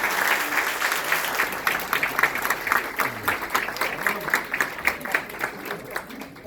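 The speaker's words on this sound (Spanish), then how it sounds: "Un gran aplauso al poeta Mateo." A crowd applauds at an award ceremony in honour of a poet, with dense clapping that starts full and gradually thins into scattered claps.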